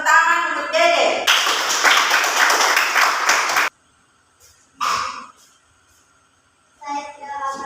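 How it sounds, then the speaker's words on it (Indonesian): Students in a classroom clap for a classmate, a brief burst of close, brisk hand clapping between stretches of a teacher's and children's talk. "semua tepuk tangan untuk Dede."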